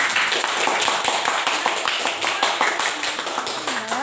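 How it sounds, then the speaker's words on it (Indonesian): A classroom breaks into lively applause for student group 3 after their presentation, with dense, steady clapping from many hands carrying through the whole stretch and voices mixed in. "Untuk kelompok 3 ya, tepuk tangan yang meriah."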